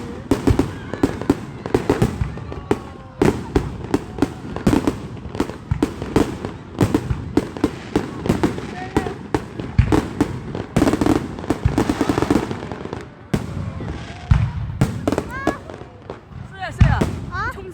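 Fireworks display with dense, rapid crackling bangs and booms throughout, loud and continuous, while people talk excitedly nearby.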